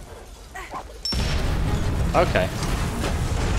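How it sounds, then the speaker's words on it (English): In the Valiant Hearts video game, a sudden heavy blast booms, then a loud rumbling roar lingers, while someone speaks briefly beforehand and voices murmur under the din. "That was big boy explosion."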